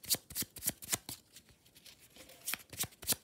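Angel oracle cards are shuffled by hand before one is drawn, giving a series of quick, crisp riffling bursts at a brisk, uneven rhythm, close and clear, with brief pauses between the flurries.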